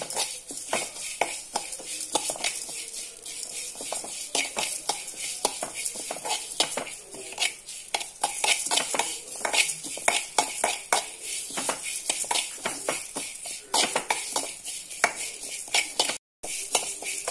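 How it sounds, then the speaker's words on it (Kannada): Spices and curry leaves dry roast in a pan without oil for breadfruit sukka, with constant crackling and scraping as a spoon stirs against the metal, close and steady throughout. "ಆಡ್ ಮಾಡಿ ಒಳ್ಳೆ ಮಾಡಿ ಹುರಿಯೋಣ ಇದನ್ನ"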